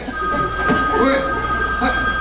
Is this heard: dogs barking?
no